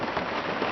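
Rain falling on a demolition site with bare metal framing, a steady close patter of drops on hard surfaces throughout.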